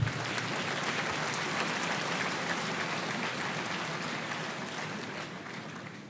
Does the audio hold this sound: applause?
yes